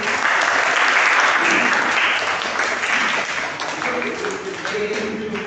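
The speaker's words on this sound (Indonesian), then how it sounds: "Tepuk tangan dulu" A university class in civil procedure law applauding, loud continuous clapping from the students in a classroom, holding steady before easing slightly near the end.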